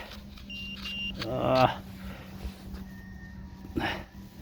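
A metal detector sounds its signal tones while hunting for old coins in a forest, with thin electronic beeps and warbles over a steady low hum, alongside a voice.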